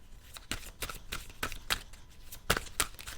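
Tarot cards being shuffled by hand, a rapid series of crisp riffling snaps in an uneven rhythm, close and fairly quiet with no talking.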